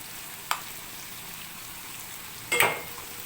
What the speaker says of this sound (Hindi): अब गोश्त को दोबारा से पकाएंगे अच्छी तरह से।